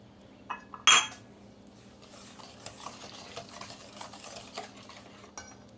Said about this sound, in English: I'm just gonna mix that a little bit before we put in our other ingredients.